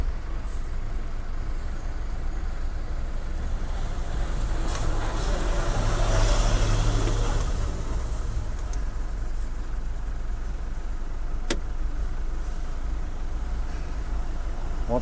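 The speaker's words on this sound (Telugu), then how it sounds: "ఈ చెక్ పోస్ట్ దగ్గరికి వచ్చేసరికి వెహికల్స్ అయితే వస్తూనే ఉన్నాయి" Night traffic at a road check post near Chittoor, with cement lorries, bulkers and cars rumbling past continuously, a swell as a heavy vehicle goes by and a sharp air-brake hiss, with faint voices in the background.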